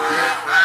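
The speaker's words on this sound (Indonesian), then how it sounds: "Wow, ini seekor angsa." A single loud, continuous goose honk from a toy or game, sustained and close for under a second with a rough tonal quality.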